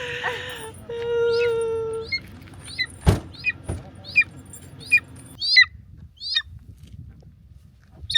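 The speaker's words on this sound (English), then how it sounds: "there's an eagle in the car" A series of sharp, high-pitched eagle squawks and cries repeating every second or so inside a car in Kyrgyzstan, with a brief low moan early on and a couple of thumps.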